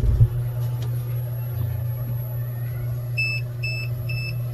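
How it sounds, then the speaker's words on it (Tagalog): A multi clamp meter's leakage detector alarm gives repeated short electronic beeps, four evenly spaced pulses near the end, over a steady low hum and faint background noise. "Ito, tapos idikit mo lang to dito, mag-alarm to."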